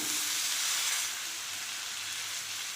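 Fried cauliflower pieces hit chili powder in a hot pan, giving a loud, dense, continuous hiss and crackle that stays close and steady for a few seconds with no voices.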